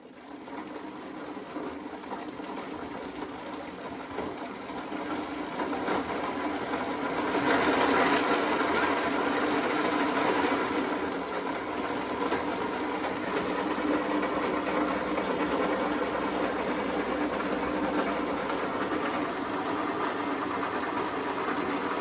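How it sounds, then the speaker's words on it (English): An electric motor on an upcycled lawn mower spins a chain drive, a steady close whirring rattle with a faint rise partway through and no talk. "It's a little bit noisy, but it's also what comes with a chain drive"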